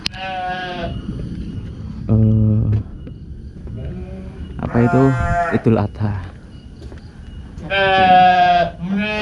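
Sheep at a small Indonesian farm give several loud, harmonic bleats spread across the stretch, with a brief bit of nearby talk between calls.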